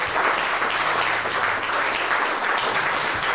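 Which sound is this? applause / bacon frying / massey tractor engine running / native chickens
applause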